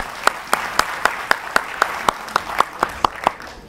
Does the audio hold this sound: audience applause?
yes